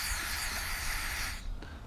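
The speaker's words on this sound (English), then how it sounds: "put some spray cleaner inside" A steady hiss of aerosol cleaner sprayed up close into a lawnmower carburetor bowl for over a second, then it cuts off, leaving a brief quiet with a small knock.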